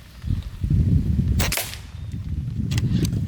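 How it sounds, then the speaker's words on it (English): A JTS Brawn bullpup PCP air rifle fires, giving a couple of short, sharp close cracks over a low rumble of outdoor wind. "This may have a different point of impact, so we might just shoot a group and see where it goes"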